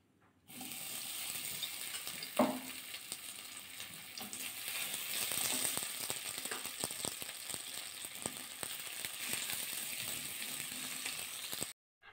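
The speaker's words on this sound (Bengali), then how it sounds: "তেলটা গরম হয়ে গেছে, প্রথমে ভেন্ডিগুলো ভাজা করে নেব" Okra (bhindi) frying in hot mustard oil in a kadai gives a steady, close sizzle with a sharp clatter near the start and scattered spatters and stirring scrapes throughout, stopping abruptly near the end.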